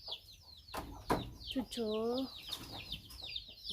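Chickens on a Tamil farm with ducks and areca palms, clucking and chirping in repeated short calls close by, with a louder drawn-out squawk midway while a person speaks briefly.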